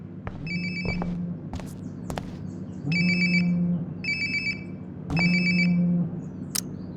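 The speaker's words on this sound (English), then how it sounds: "Sounds like my phone is definitely nearby." A phone rings nearby in the video game Life Is Strange: Before the Storm, a two-tone ring repeating in regular pairs with a low hum beneath, alongside faint rustling and footsteps.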